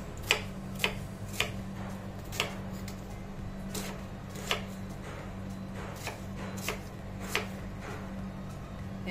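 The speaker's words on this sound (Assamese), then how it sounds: "ইয়াত লৈছোঁ মই পিঁয়াজকেইটা একেবাৰে মিহি মিহিকৈ কাটি লওঁ" A knife finely chopping onions in irregular sharp taps on a board, about a dozen spaced strokes over a low steady hum.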